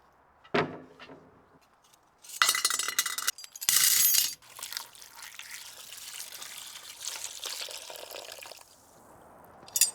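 Metal hardware that has been soaking in vinegar clinks and rattles in liquid, with a few sharp knocks and bursts of sloshing and dripping, close and fairly loud.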